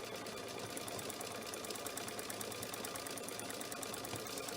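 A sewing machine fitted with a couching foot does free motion quilting, its needle chattering in a fast, steady rhythm up close throughout.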